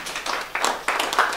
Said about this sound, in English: So everyone, just start off with a basic mediocre clap.